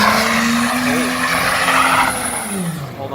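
A 2004 Suzuki Forenza engine revs loud and close, then drops out of neutral into gear with a quick pitch dive and a squeal of skidding tires, all under steady engine roar.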